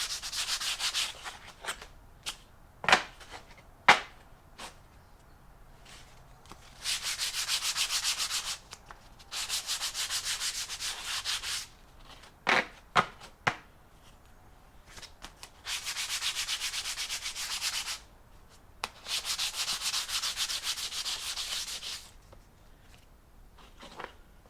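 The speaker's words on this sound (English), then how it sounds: "you can just kind of touch it up whenever you're nailing them down. Keep a piece of sandpaper close by." Sandpaper is rubbed by hand over wood flooring being laid in a micro camper RV. Long, raspy back-and-forth passes alternate with quieter gaps and a few sharp knocks. It is close and clear, with no talking.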